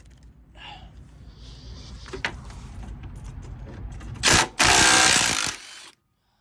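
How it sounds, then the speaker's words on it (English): Close hand ratchet clicking as it backs off 10 mm nuts, a run of short mechanical ticks followed by a louder burst of harsh rasping noise near the end. "I'm gonna go ahead and do these 10 millimeters, just a nut."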